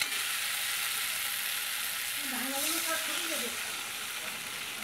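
Mourala fish curry fries and gets stirred in a pan, with a steady close sizzle throughout and a faint voice murmuring briefly under it.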